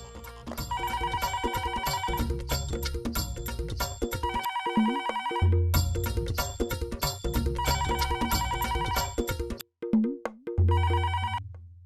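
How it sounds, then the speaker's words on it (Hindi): A phone ringtone plays loudly and continuously as a repeating electronic melody, with brief pauses near the end and no talking. "तुम ही उठाओ फोन।"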